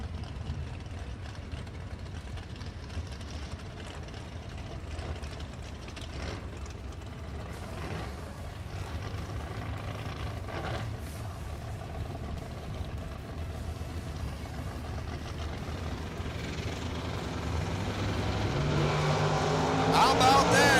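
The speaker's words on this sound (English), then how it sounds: "Silver pickup truck over on the TVM brake side of the racetrack, and the 70s style Camaro with the black and silver over on the Summit side of the racetrack." A pickup truck and a 1970s Camaro run at a drag racing event, their engines a steady distant roar that builds louder near the end as they launch, under continuous announcer talk.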